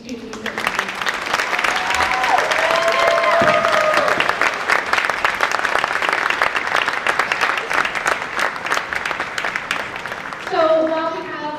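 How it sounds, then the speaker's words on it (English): A school spring band concert audience applauds the young student musicians in a hall, with dense, sustained clapping for about ten seconds before it thins out. A voice begins speaking as the applause fades. "Can we have a round of applause for all these amazing students?"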